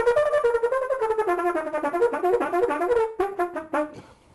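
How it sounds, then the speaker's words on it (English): A horn, most likely a trumpet or cornet, plays fast triple-tongued note patterns, rapid clusters of three articulations in repeating runs. The playing is close and solo, ending with a few separated short notes. "And the triple tongue sounds."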